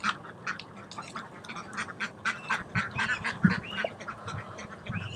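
Free-range ducks and geese on a farm, kept for weed and bug control, quack and honk in a steady, overlapping chorus from fairly close by, with no talk over them.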